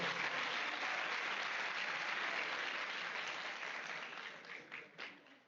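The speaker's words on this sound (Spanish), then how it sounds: "un aplauso para la doctora, por favor" An audience claps in sustained applause that fills the room, then thins out toward the end into a few scattered claps.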